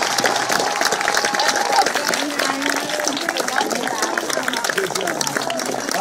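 A crowd at a US Air Force basic military training graduation applauds moms and spouses with dense, continuous clapping and scattered cheers, loud and close, while a voice speaks over part of it.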